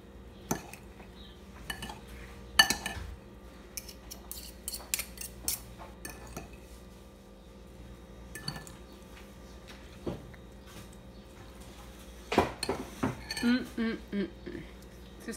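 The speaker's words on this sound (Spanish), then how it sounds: "El jugo de un limón. Lo vamos a revolver." A cucumber and jicama salad stirred with lime juice in a bowl, heard as scattered clinks and scrapes of a utensil against dishware. The taps are irregular and fairly faint, with a busier cluster of clatter near the end.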